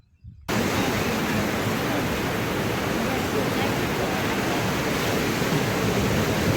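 Water in a village river rushes steadily after a brief quiet start, a loud broad hiss of flow that holds unchanged throughout.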